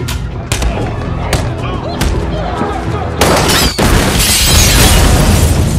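A suicide bomb blast in an action film about a Secret Service agent saving the US president: a dense, loud barrage of booms, gunfire-like bursts and crashing debris that swells into a heavier roar near the end.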